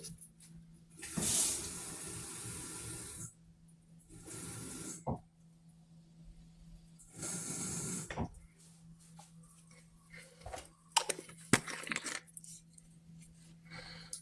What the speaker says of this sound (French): Et je remplis d'eau.